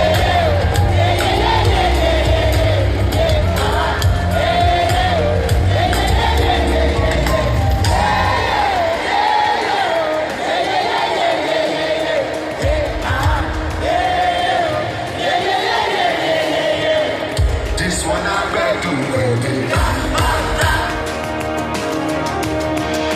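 A large crowd roars and cheers continuously at a stadium concert at Citi Field, loud and dense, with whoops and shouts swelling over thumping music throughout.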